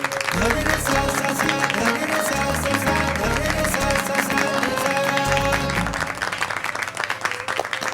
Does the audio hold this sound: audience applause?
yes